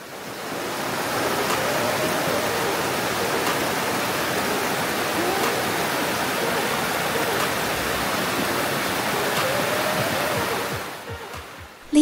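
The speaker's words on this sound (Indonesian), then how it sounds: "Suara gemericik airnya juga jadi lebih jelas dan ceria di pagi hari ini." Steady rushing clear river water flows continuously over rocks at Legok Gintung on a morning, a broad even roar close by that fades out near the end.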